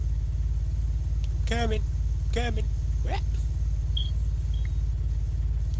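A loud car engine in the Fortnite video game hums and rumbles steadily in the foreground while players talk briefly over it.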